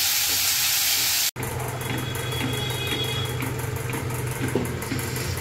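Boiled unripe jackfruit frying in a pan with a steady sizzling hiss, close and continuous after a brief cut near the start, with no talk.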